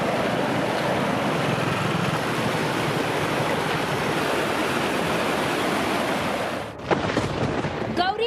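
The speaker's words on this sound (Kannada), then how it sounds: "ದಕ್ಷಿಣ ಕನ್ನಡ ಜಿಲ್ಲೆಯಾದ್ಯಂತ ಸುರಿಯುತ್ತಿರುವ ಮಳೆಗೆ ಪುತ್ತೂರಿನ ಸರ್ವೆಯಲ್ಲಿ ಗೌರಿ ಹೊಳೆ ಉಕ್ಕಿ ಹರಿಯುತ್ತಿದೆ." The Gowri river in flood at Sarve, Puttur, in Dakshina Kannada, overflowing after days of heavy rain: a loud, continuous rushing roar of fast water that cuts off abruptly near the end.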